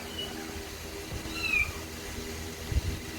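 A short cat meow in the video game PUBG rises briefly over a low, steady electronic background hum, with a soft thump near the end.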